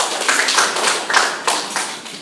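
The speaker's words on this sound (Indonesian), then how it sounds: "tepuk tangan dulu untuk kelompok" A small group applauding a class presentation, a short burst of uneven hand claps close by with no voices over it.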